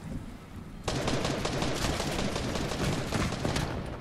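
Sustained automatic gunfire in Fortnite, a rapid close burst of shots that begins abruptly after a short lull and continues loud and unbroken to the end.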